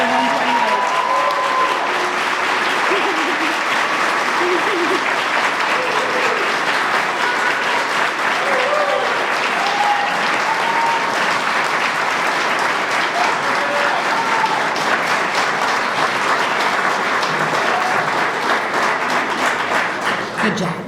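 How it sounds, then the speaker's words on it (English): Loud, sustained applause from a graduation ceremony audience for a police recruit class, with whoops and shouted cheers mixed in, a dense steady wall of clapping lasting the whole stretch. "Now you can applaud, hoot and holler."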